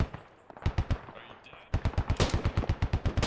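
A Mark 12 rifle fires in a military shooter game, a few sharp shots followed after a brief lull by a rapid steady string of close, punchy reports.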